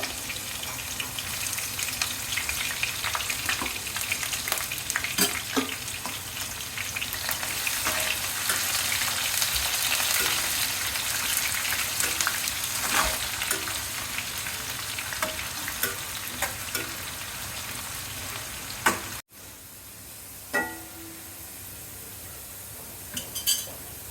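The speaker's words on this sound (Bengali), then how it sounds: "তেল গরম হয়ে গেছে, এখন দিয়ে দেবো পেঁয়াজ।" Onions fry in hot oil in a wok, a continuous close sizzle with frequent stirring scrapes and occasional utensil clinks, briefly cut off near the end before quieter clinks resume.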